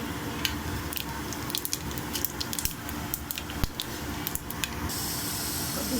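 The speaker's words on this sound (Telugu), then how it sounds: "ఇలాచి, అది పట్టా, లవంగం, స్టారు, ఫ్లవరు, బిర్యానీ ఆకు, కొద్దిగా జీలకర్ర వేసుకున్నామండి" Whole spices — cardamom, cinnamon stick, cloves, star anise, bay leaf and a little cumin — sizzle steadily in hot oil for mutton keema, a close, continuous frying hiss with small crackling pops throughout and no talk.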